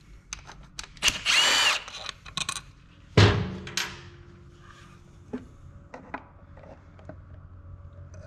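Power tool spinning out a bolt on the engine cover of a 2020+ Beta RR 4-stroke motorcycle, with a brief whir, a sharp metallic clank, and scattered quieter knocks and tool handling afterward.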